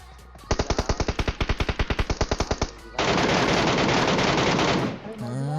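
Automatic weapon fire in the battle royale game PUBG Mobile, a close burst of about twenty evenly spaced loud shots, then a dense continuous roar of rapid fire lasting two seconds before fading, with a faint voice near the end.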